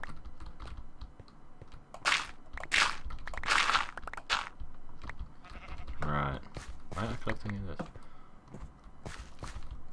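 Minecraft sheep give a couple of short bleats in the game, mixed with crunchy block-digging footsteps and quick keyboard clicks, and a person talks around them.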